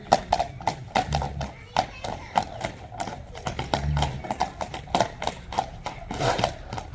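Hooves of a large ridden horse clip-clop at a quick, even gait, sharp close strikes repeating steadily, with a brief snort and voices talking underneath.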